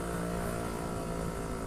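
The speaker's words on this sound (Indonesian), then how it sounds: "takut warga kebisingan sama suara knalpot saya" A restored Suzuki Satria 120R motorcycle's steady, loud engine drone with a low rumbling exhaust note, continuous and close throughout, with no voices.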